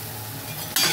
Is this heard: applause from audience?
no